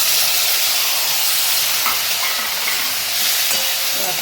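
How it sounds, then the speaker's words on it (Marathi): Steamed cauliflower drops into hot sizzling tempering for gobi masala and gets stirred, giving a steady, loud broadband hiss and frying crackle throughout with no talk. "हे एक वाफ आलेलं फ्लावर फोडणीत टाकत आहे मी"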